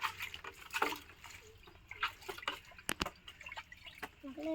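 Water is poured and splashed while washing up at an outdoor village cooking spot where fish gravy is made, in uneven bursts of splashing and trickling under nearby voices.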